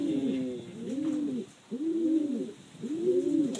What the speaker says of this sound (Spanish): Esta paloma que ustedes ven ahí, no sé si se puede ver bien.